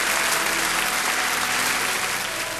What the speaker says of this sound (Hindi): चारों तरफ से तालियों की गड़गड़ाहट गूंज उठी।